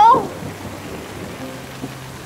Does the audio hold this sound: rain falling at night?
yes